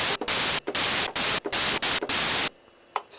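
Noise waveform from a Roland SH-09 analog synthesizer: a run of loud, even hissing bursts separated by brief gaps in a steady rhythm, then sudden near-silence.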